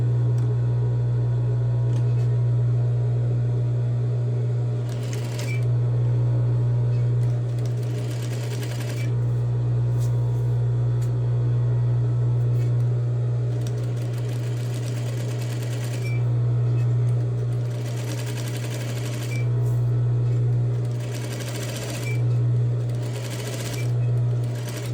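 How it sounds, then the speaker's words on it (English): A sewing machine stitches the side seams of a fabric tote bag in a steady, close mechanical whirr, running in long bursts with short pauses between them, while someone talks at times. "help me by sewing again closer to the bottom of the bag"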